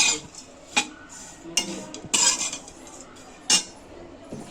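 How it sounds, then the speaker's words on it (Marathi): A kilo of dry coconut is roasted in a pan until it turns brownish, and a utensil scrapes and clinks against the metal in scattered, irregular strokes at moderate loudness, with no voices. "असा छानपैकी खोबरा असा ब्राउनिश थोडा कलर येईपर्यंत खरपूस असा भाजून घ्यायचा"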